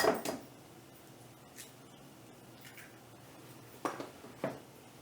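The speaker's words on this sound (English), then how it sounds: "the first thing you need, some eggs. Crack them open." Eggs cracked open one after another for cooking, giving sharp crisp taps and a wet drip-like splat as the shells break, with a few quiet pauses between them.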